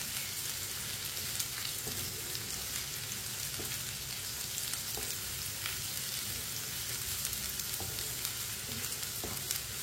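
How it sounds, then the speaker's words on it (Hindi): Tinda and onion frying together in a pan give a steady, dense sizzle with no voices, broken by a few faint clicks from the spoon. "टिंडे और प्याज को दोनों को एक साथ 3-4 मिनट के लिए पका लेंगे"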